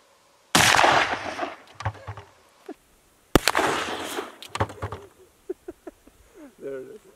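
Two sharp, loud 45-70 rifle shots ring out outdoors a few seconds apart, each followed by a fading echo, with people talking briefly between and after the blasts.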